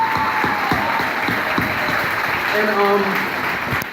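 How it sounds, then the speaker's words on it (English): Round of applause for Miss Ryan at a band speech, a full room clapping steadily and loudly with scattered sharper claps near the front, as a voice speaks briefly over it. "can we give a round of applause to Miss Ryan"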